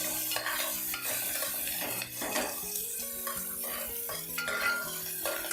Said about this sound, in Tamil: கட் பண்ணி வச்ச வெங்காயம், இது எல்லாம் விட்டு 2 நிமிஷம் நல்லா வதக்கி